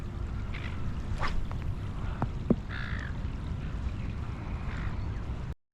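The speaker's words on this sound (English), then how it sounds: "Just watching all these seagulls, it's like they're barfing." Seagulls call over fresh water, giving a few short, faint cries scattered over a steady rumble of wind and water, with the sound cutting off abruptly at the end.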